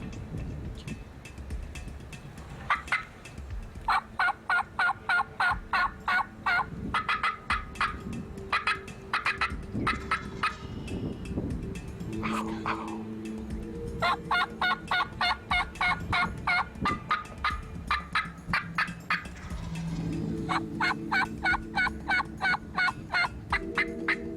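Loud, close wild turkey gobbling comes in several long rattling runs with brief pauses between them, over wind and low rumbling background noise.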